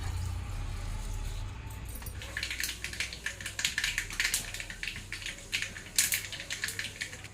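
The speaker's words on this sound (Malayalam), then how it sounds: "നമുക്ക് കടുക് ഇട്ട് കൊടുക്കാം" Mustard seeds pop and splutter in hot coconut oil in a pan for chutney tempering, starting with a low hum and then a quick string of sharp, crackling bursts.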